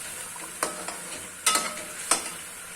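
Yogurt fries in a pot for chickpea curry, a soft sizzle broken by several sharp metal stirring clanks spaced about a second apart.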